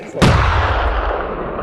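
One loud hunting rifle shot, fired at an Alpine ibex in the Austrian Alps, booms sharply, followed by a long rolling echo that fades slowly across open terrain.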